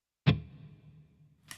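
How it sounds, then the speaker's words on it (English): A guitar through a Headrush pedalboard with air reverb on the hall setting strikes one sharp note, and its reverb tail decays slowly into near silence before another attack begins. "I'm going to go with air reverb, and then I'm going to go Hall."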